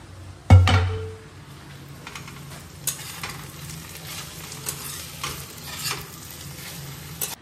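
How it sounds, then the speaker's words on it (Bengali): Papad frying in oil in a home kitchen pan: a sharp clank at the start, then a soft continuous sizzle with intermittent light scrapes and taps from the turning utensil, close and without voices. "একটু পাঁপড় ভাজি, ডাল ভাতের সঙ্গে একটু পাঁপড় ভাজা হলে ভালো লাগে"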